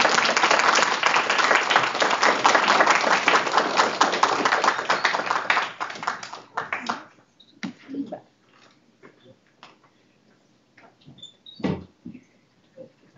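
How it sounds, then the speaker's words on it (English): Audience applause at an MLS research symposium, a dense, loud burst of clapping for about six seconds that tapers off into scattered claps, knocks and faint voices. "let's give another round of applause to everybody"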